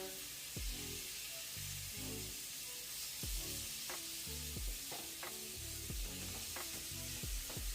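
Chicken pieces sear in a hot pan for chicken scampi, a constant bright sizzle with repeated scraping stirs and clanks of the utensil, close by and without talk.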